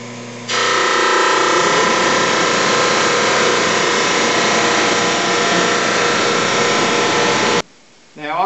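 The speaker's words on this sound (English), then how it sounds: "Now I'm going to run it through my sander to get off any planer snipe, get these as perfectly flat as I can" A sander runs over cherry boards to flatten them and remove planer snipe, giving a loud, steady, close mechanical roar that holds for about seven seconds and then cuts off abruptly.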